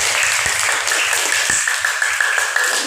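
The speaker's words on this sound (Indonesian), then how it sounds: "Ya, beri tepuk tangan untuk Ida." Applause from a classroom audience fills the whole stretch, a steady dense patter of many hands clapping at close range with no talk over it.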